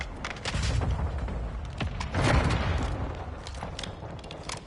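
Dense gunfire in a Call of Duty team deathmatch on the Shipment map, with rapid overlapping shots and booms sounding steadily and loudly throughout, with no talk.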